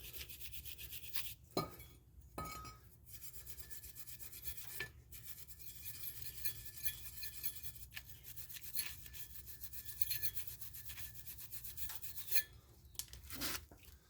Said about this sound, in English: Going to take a wire brush